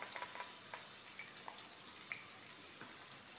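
A ground paste of coconut, garlic, coriander and cumin fries in oil, a faint, steady hissing sizzle with a few small pops and light clicks throughout.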